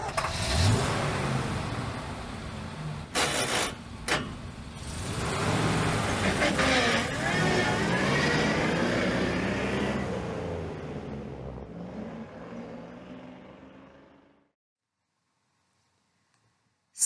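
As a story sound effect, a bus engine starts up, revs and pulls away with a loud, steady roar, then fades out and leaves silence.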